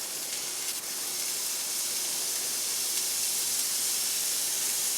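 Hamburger patties sizzle in a hot pan as a steady, loud, broadband hiss that holds evenly throughout, with a brief crackle early on and no voices.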